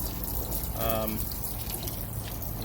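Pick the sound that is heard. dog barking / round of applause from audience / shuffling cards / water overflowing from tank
water overflowing from tank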